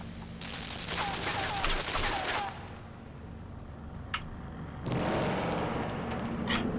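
Machine gun fire in the side-scrolling puzzle game Limbo: dense bursts of rapid automatic shots, one lasting about two seconds, a quieter lull with a single sharp crack, then another sustained burst, loud and close.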